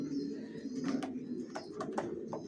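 Johnson racer pigeons coo in a loft, a low continuous burbling drone close by, broken by a few sharp flutters or clicks, with no talking.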